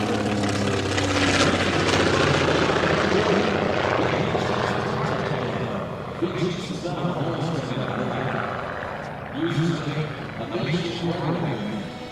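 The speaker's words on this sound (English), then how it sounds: "we'll see the engines come back to full power on a go-around" Engines of vintage Beech 18 and C-47 Skytrain propeller aircraft roar loudly and continuously during a go-around, a throbbing drone that rises to full power, with faint voices talking underneath.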